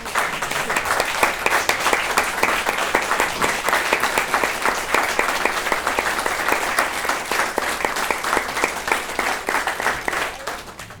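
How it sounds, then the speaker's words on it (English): A seated audience applauds the parents, guardians and family members of Do the Right Thing winners as they stand; steady, dense clapping fills the room for about eleven seconds with no pause, easing only slightly at the end. "We want to applaud you."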